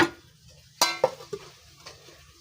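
A spoon stirs a vegetable and rohu fish curry in a pan, giving a few sharp metallic scrapes and clinks with a faint simmer between them, close and brief with no talk.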